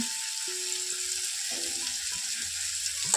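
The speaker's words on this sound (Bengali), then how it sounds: "টমেটোটা যাতে ভালোভাবে এখানে তেলের মধ্যে খুব তাড়াতাড়ি সেদ্ধ হয়ে যায় তার জন্য আমি একটু লবণ এখানে দিয়ে দিচ্ছি" Tomatoes frying in oil with a pinch of salt for khosholla do pyazi, giving a continuous close sizzling hiss with faint low tonal hum and occasional soft stirring, no voices.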